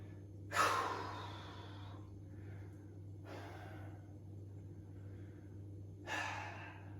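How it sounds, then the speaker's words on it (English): A person during a bodyweight bootcamp workout takes long, slow breaths in through the nose and out through the mouth, three audible breaths spaced several seconds apart over a steady low hum. "Long, slow breaths into the nose, out through the mouth."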